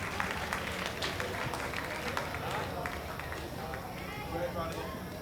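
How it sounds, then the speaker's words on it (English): Steady crowd applause fills the whole stretch, dense and continuous with scattered sharper claps, heard from a distance without any talking. "Great round of applause there"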